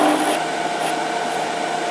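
A wooden dowel for a spinning top turns on a lathe with a steady, close rubbing rasp, continuous and fairly loud for the whole short stretch.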